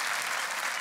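Dense, loud audience applause at a Portuguese stand-up comedy show, a steady wash of clapping filling the whole short stretch with no voices over it.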